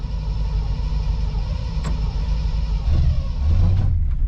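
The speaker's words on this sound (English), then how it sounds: "I think we'll give it a cold start here." A cold 1959 Chevy with a 348 V8 runs with a steady, close, deep rumble, then swells briefly louder near the end.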